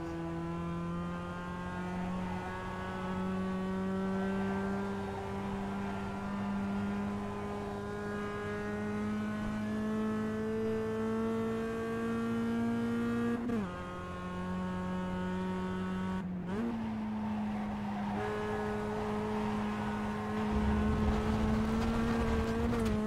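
Mazda MX-5 Miata race cars lapping Summit Point, a steady in-car engine drone holding pitch with a couple of sharp gear-change dips, loud and continuous.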